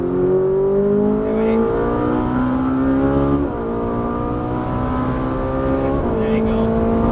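A Ferrari 458 Italia's engine pulls hard on a racetrack at Exotics Racing in Las Vegas, a loud, close, rising wail with a brief dip at a shift before climbing again.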